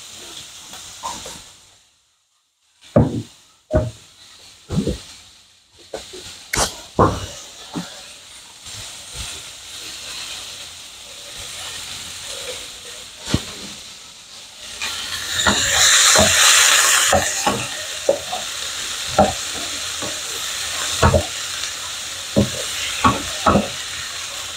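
Rock sugar caramelizing in a pan with mushrooms about to go in: a close, steady hiss and sizzle that swells loudly midway, broken by repeated sharp clacks and scrapes of a utensil stirring against the pan.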